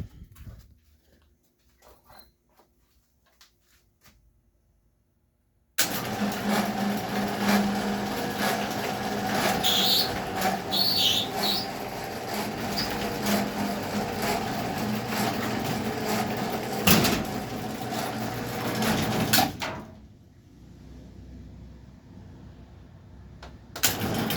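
A Genie 200 garage door opener runs from the wall button, its motor starting abruptly and droning with a steady mechanical whine and chain rattle for about fourteen seconds before cutting off, loud and close after a near-silent start.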